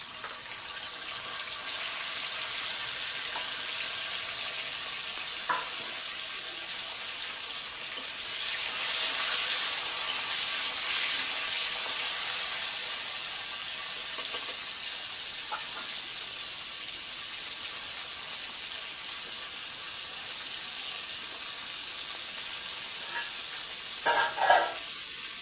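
Cauliflower florets frying in a pan for a crab and cauliflower curry, a steady bright sizzle that swells louder midway, with a few clatters of stirring near the end.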